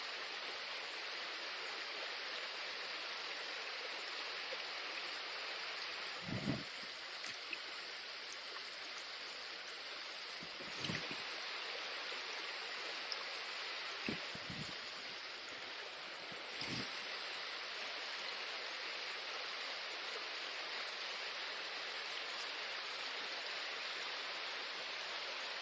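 River rapids on a steelhead fishing stream make a steady, even rushing wash throughout, with a few faint knocks in the middle.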